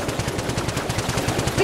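Rapid automatic gunfire in the video game Generation Zero, a fast, even burst of loud shots rattling off about ten per second without pause.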